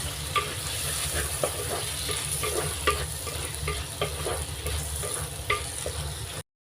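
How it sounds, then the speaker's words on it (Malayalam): Onions and chopped tomatoes being sautéed for a Kerala-style crab roast: a steady oil sizzle with a spatula scraping and tapping the pan at irregular intervals, close and continuous, with no talking. "ഇതിനെ നല്ലതുപോലെ ഒന്ന് വഴറ്റിയെടുക്കാം"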